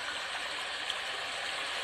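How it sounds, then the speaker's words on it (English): Steady river sounds from a meditation sound app, a continuous even rush of flowing water with no pauses or voices. "So it's got the river sounds."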